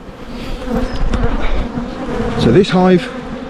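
Honeybees buzz loudly and continuously around a hive that has just been split for an artificial swarm, a close, dense hum with individual bees passing near.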